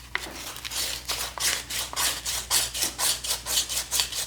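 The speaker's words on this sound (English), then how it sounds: "We'll use a little sandpaper." Sandpaper rubs the rough edges of a homemade self-centering scribe tool in a steady back-and-forth rhythm of close, raspy strokes, about a dozen in quick succession.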